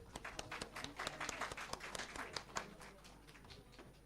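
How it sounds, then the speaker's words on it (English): Audience applause at a college seat-taking ceremony welcoming a guest of honor to the dais, moderately loud scattered clapping that fades slightly toward the end, with no talk over it. "Please welcome him with a huge round of applause."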